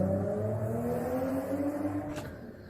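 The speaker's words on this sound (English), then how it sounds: "Why do people have loud mufflers?" A car with a loud muffler revs nearby, its engine note droning and rising before a sharp click cuts in and the sound tapers off.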